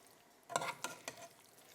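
A spoon stirs thick cauliflower mac and cheese sauce in a pot on the stovetop, making three short, soft scraping strokes against the quiet.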